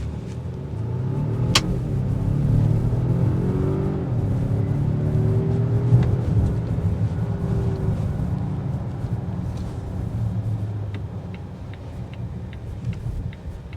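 A 2026 Volvo XC90 T8 four-cylinder plug-in hybrid accelerates with a steady low engine rumble and a rising tone, heard from inside the cabin with faint ticking over it.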